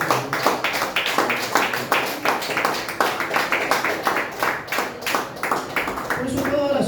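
A church congregation claps during a sermon, a run of fairly quick, rhythmic claps at moderate volume with a voice speaking over them near the end.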